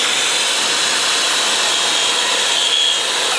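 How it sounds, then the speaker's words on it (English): A DeWalt track saw cuts straight through material with a loud, steady, continuous high-pitched whine and rushing blade noise, sustained throughout with no talking. "I really like this TRACKSAW by DeWalt."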